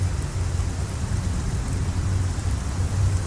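Steady, dense rain pours continuously in a video game set on Planet Toulan, a loud even hiss with a low rumbling undertone and no voices.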